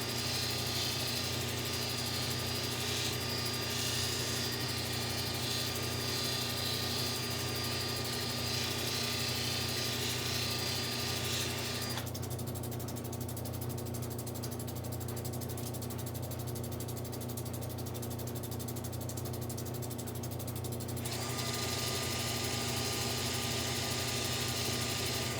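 Cabochon polishing machine with a 1200 grit wheel running steadily, a loud continuous motor drone with a constant hum throughout and a brief change in texture midway, no voices.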